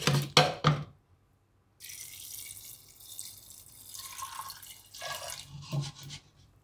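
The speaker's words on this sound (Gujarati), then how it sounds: "હવે આપણે એમાં પાણી નાખવાનું છે." Water is poured into a pressure cooker holding lentils for dal, a steady close splashing stream that runs for several seconds after a few sharp clinks of the pot.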